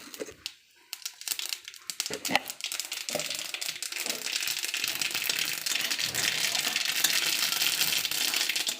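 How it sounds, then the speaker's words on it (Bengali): Mustard seeds and two dried red chillies hit hot oil in a pan while cooking tomato moong dal, giving a close, continuous crackling sizzle that builds and spreads into a steady dense hiss with scattered pops. "একটু সর্ষে দিলাম,"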